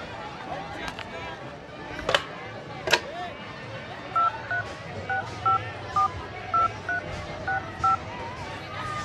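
A phone number is keyed in as a run of about ten short, evenly spaced dialing beeps, following a couple of sharp clicks against quiet room noise.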